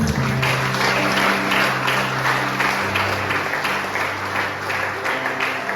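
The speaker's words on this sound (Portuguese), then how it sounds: "Vamos aplaudir." An audience at a church service applauds in a continuous crowd of clapping, with sustained musical or vocal tones running underneath throughout.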